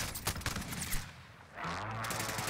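Shotgun blasts in the video game Call of Duty Warzone, a run of sharp loud reports in quick bursts followed by a sustained rumbling game din.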